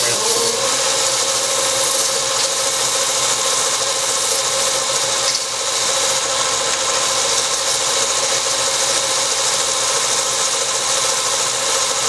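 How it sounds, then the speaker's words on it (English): Sandpaper at 180 grit rubs against a small cherry wood box hemisphere spinning on a lathe at 850 rpm, giving a steady, continuous hiss-like friction over the motor's hum throughout. "go ahead and get that hemisphere sanded"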